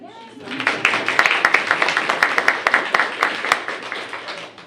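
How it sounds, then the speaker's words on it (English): A meeting audience claps for a student award winner, a fairly small group producing a rhythmic, moderately loud patter of hand claps that starts after a brief murmur and continues steadily throughout. "We can clap."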